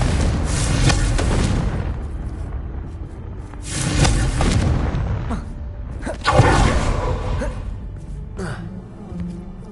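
Magical blasting bursts from the Confringo spell in Hogwarts Legacy, three loud booming explosions spaced a couple of seconds apart, each with a broad rumbling crack that decays into fizzing debris.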